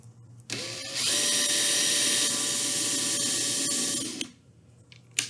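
A power drill bores holes in wood for coat rack hangers, spinning up and then holding a loud, steady whine for about three seconds before winding down, with a short clatter at the end; nobody speaks.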